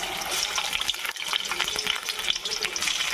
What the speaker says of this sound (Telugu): ఇప్పుడు పకోడీ వేసేసుకుందాం. ఎక్కిందండి ఆయిల్. మనం చికెన్ పకోడీ వేసేసుకుందాం.